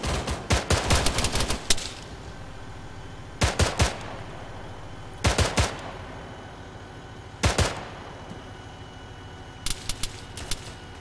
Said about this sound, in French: Une mitrailleuse aussi dans la ligne d'armes